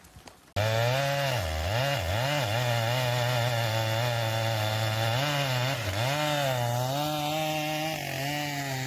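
A sharp chainsaw roars continuously as it tears into a burning tree trunk in a forest, its loud engine note dipping and rising as the blade bites and strains through the wood.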